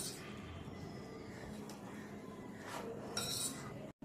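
A spoon clinks and scrapes against a bowl while paneer kofta ingredients are mixed together in a home kitchen, producing soft, close, irregular stirring and tapping sounds with a few brighter clinks near the end.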